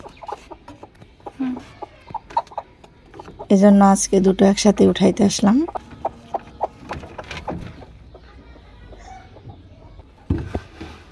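Hens in a laying coop give a loud burst of rapid clucking and squawking midway, with softer clucks around it, while someone talks nearby.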